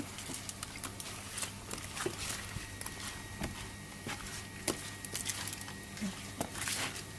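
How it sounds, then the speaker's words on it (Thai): Hands knead striped catfish with coarse rock salt in a kitchen, making close, irregular crunching, squelching and patting sounds over several seconds above a low background hum. "ก็ใส่เกลือเม็ดลงไป แล้วก็ขยำขยำ"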